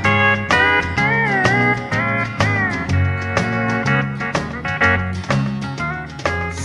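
A Capitol recording played for a 1966 country music television show: a bright, full band with twangy lead and steady rhythm, loud and continuous, with no vocal yet.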